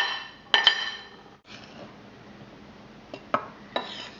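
Meringue powder is stirred by hand into icing sugar in a bowl. Quiet scraping runs throughout, broken by a few sharp clinks and knocks of the utensil against the bowl, with no voices.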